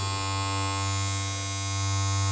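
A steady electric hair trimmer hums and buzzes continuously at close range, with an even, smooth tone and no voices.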